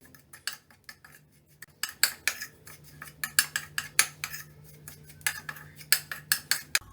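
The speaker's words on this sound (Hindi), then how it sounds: "इन सारी चीज़ों को मिक्स कर लेंगे" A metal spoon repeatedly clinks and scrapes against a bowl while mixing gram flour with chilli, coriander and turmeric powders, grated garlic, dry mango powder, salt, garam masala and asafoetida, in quick rhythmic strokes, close and clear without talk.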